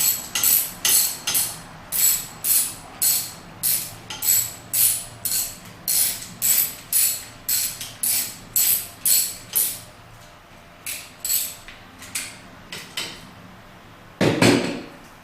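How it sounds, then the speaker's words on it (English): A ratchet wrench turning bolts on an outboard motor during an impeller replacement, rapid rhythmic clicking bursts repeating for most of the stretch, close and loud, ending with a heavier clunk. "I'm just going to go ahead and use my ratchet."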